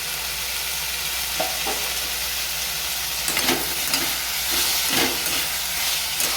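Moong dal with curry leaves, tomato and a little sugar stirred in a sizzling pan, a steady frying hiss with soft scraping strokes of the spoon around the pan.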